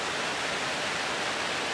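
A waterfall in a canyon gives off a steady, even rushing roar, soft and continuous with no other sounds over it.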